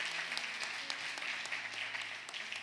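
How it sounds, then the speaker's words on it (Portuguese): A church congregation applauds in a steady, faint wash of clapping that continues without a break, with no talk over it. "Aleluia, uma salva de palmas."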